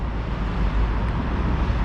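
An electric trolleybus rolls past on a Belgrade street, a steady low rumble of traffic and road noise with some wind buffeting the microphone, continuous and fairly close.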